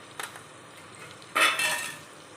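A spoon stirs spices for tuvar dal khichdi in a pot, with a light clink at first and then a louder scraping rattle against the metal over a faint sizzle.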